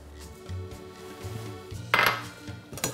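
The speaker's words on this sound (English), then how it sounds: "Give it a stir" A utensil stirs charro beans with tomatoes and salt inside an Instant Pot, giving soft scraping and clinks against the metal pot and then one sharper clank, with no one talking.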